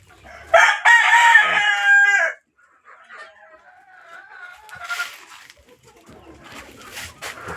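A rooster crows loudly and close by in a backyard poultry yard, one long harmonic call, followed by softer scattered clucking and chicken murmurs.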